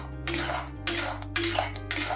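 A spoon stirs ghee in a cooking pot in a few short scraping strokes, repeated at a steady rhythm over a low constant kitchen hum.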